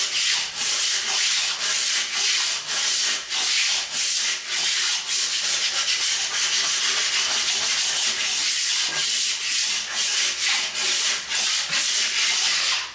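Long-handled floor razor scraper dragged over mastic-coated flooring softened with a sprayed cleaner, giving a loud, steady harsh scraping in short repeated swipes with no talk.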